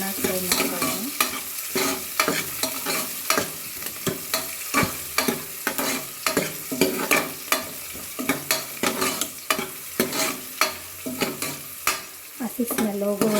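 Food frying and sizzling in a pan while being stirred until it colours, for a palak spinach saaru, with repeated scraping strokes over a steady close hiss and no talk.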